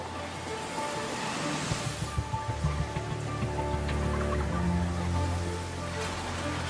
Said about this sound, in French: Le déluge s'abat si violemment que les rues sont inondées en quelques minutes.